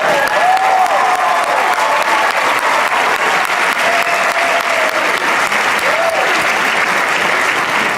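Loud, continuous crowd applause during a motivational speech, a dense wash of clapping from a large audience, steady throughout with faint cheers rising now and then.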